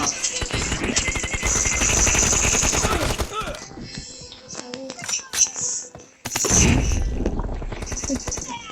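Rapid automatic gunfire in the game PUBG rattles in loud, dense bursts, broken by sparser single shots and then another heavy volley, with voices talking over parts of it.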